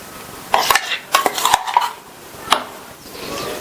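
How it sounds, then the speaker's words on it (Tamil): Ground coconut and green chili paste are scraped into a bowl for a Tamil-style curd pachadi, with a series of sharp metal spoon clinks and taps against the bowl, close up and irregularly spaced, with no talking. "அரைச்ச தேங்காய் பச்சை மிளகாய் விழுத இந்த பவுல்ல சேர்க்கிறேன்"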